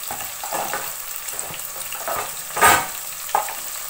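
Cashews and onions fry in a pot of oil for a one-pot prawn biryani, a steady soft sizzle with a few louder splashes and stirring bursts near the end, no talk.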